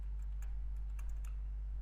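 Light keystrokes on a computer keyboard while entering a class name for a checkbox in a Bootstrap form, faint irregular clicks over a steady low electrical hum.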